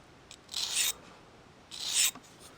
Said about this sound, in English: when you're sharpening a knife